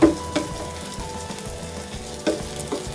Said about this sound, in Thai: เดี๋ยวเราจะผัดตรงนี้ก่อน